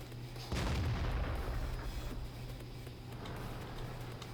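Artillery fire in the World of Tanks video game: a single deep, booming shot lands early, then fades into a low rumbling ambience, fairly quiet overall with no talking.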